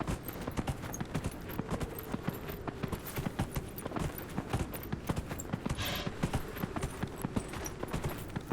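Horse hooves clip-clop at a steady walking rhythm in the video game Dragon Age: Inquisition, a continuous series of fairly close, crisp hoof falls with no talk over them.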